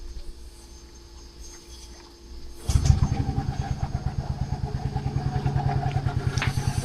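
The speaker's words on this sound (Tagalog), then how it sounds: "start nyo yung engine para mag-circulate yung oil sa loob" Yamaha Fazzio scooter with fresh oil, starting up after a quiet stretch and then idling close by in a rapid, even putter that stays steady and fairly loud.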